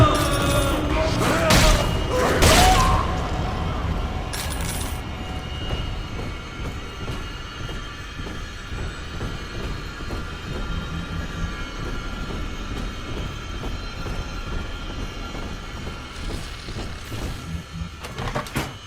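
A train in the video game Bioshock 2 starts up with a couple of loud booming clanks, then runs on with a steady rumbling rattle and faint squeals, loud and close.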